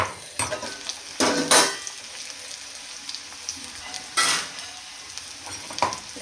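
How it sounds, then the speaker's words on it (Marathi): Ivy gourd sautés in oil in a pan, a soft continuous sizzle punctuated by several loud scraping stirs and clinks of a spoon against the pan, close up with no talk. "झाकण घालून म्हणजे तेलामध्ये अजून छान परतते."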